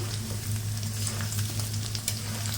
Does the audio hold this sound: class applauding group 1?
no